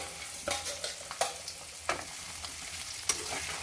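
Fish coated in a spice marinade frying in a pan, a steady crackling sizzle broken by a few sharper spatters and stirring scrapes, close and moderately loud with no voices.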